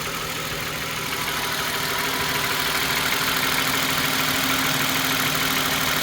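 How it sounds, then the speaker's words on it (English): A 2013 Toyota Sienna engine idles steadily during a coolant change, producing a constant, even hum with no speech. "It's going slowly because the engine is at idle."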